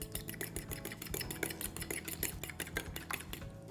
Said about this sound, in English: Now just whisk everything together.